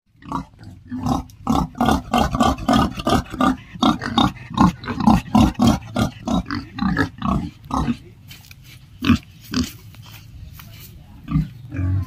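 A goat makes a run of rapid, harsh, bark-like calls in quick bursts, then quieter scattered calls with pauses.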